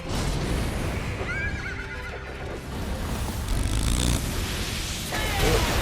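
Horse in the video game Nioh whinnies repeatedly amid clopping hooves and a dense, noisy battle-like background, loud and close.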